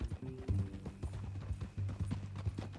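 Horse hooves clip-clopping steadily on the ground in Red Dead Redemption 2, an even walking rhythm heard close and alone for a few seconds.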